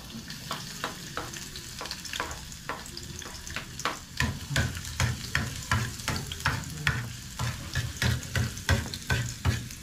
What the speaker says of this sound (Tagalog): Tayo magigisa na muna.